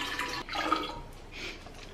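Coconut water pours into a cup at close range, a short gurgling splash that rises, briefly pauses, then trails into a softer trickle, with no talk.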